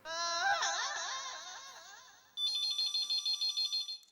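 A warbling electronic tone sounds for about two seconds, then a phone rings in a quick series of rapid, bright chirping pulses, close and alone.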